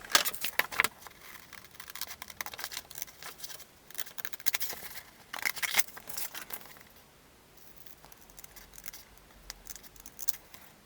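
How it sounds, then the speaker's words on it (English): Scissors snip out glossy sticker paper for a vintage Kenner M.A.S.K. Slingshot toy, a close series of crisp irregular cuts and paper rustles with quiet pauses between bursts. "I'm now going to cut these all out and stick them on the Slingshot"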